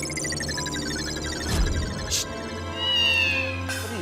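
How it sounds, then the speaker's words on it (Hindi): A house cat meows close by indoors, with a drawn-out wavering cry and another rising meow near the end, over a soft background hum and a few brief knocks. "बिल्ली"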